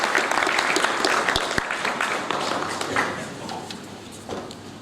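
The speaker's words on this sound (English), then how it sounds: "Please give a big round of applause" Audience applause at a university graduation ceremony, a dense burst of many hands clapping that fills the room, loud at first and gradually thinning out over a few seconds.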